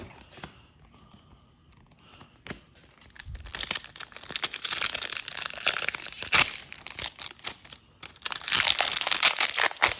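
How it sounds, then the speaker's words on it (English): A Magic: The Gathering Streets of New Capenna collector booster wrapper is torn and crinkled open close up, with a quiet pause and then bursts of loud crackling foil and plastic rustling. "These packs are actually really hard to open."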